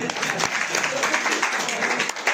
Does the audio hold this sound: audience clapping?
yes